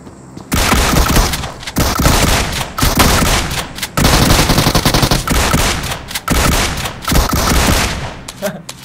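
DBS shotgun fire in the BGMI mobile battle royale game, loud dense bursts of close gunfire that come in repeated volleys with short pauses between them, with other game sounds mixed in.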